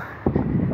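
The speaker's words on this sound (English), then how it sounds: "Yeah, a little crow, isn't that cool?" A small crow caws outdoors in a few close, harsh calls over a light breeze, with no talking.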